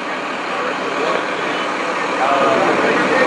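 A vehicle engine runs at an amateur radio convention, a steady broadband rumble and hiss that stays loud and even throughout, with no clear speech.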